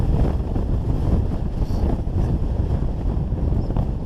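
Icy cold wind blowing hard on a Lake District mountainside, a steady, loud roar of gusts buffeting the microphone throughout, with no voices.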